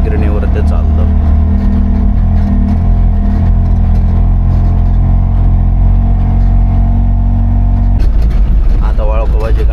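A vehicle carrying rice from a mill climbs a hill road on the way to a mill, its engine held in gear with a steady loud drone throughout and a shift in tone near the end, with people talking over it.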